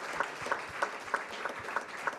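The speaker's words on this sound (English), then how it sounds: "And a big and a warm applause for our winners." A room of guests at a superyacht explorer awards ceremony applauds the winners, a steady wash of clapping with a few louder claps recurring at a regular, almost rhythmic pace, alone and without speech.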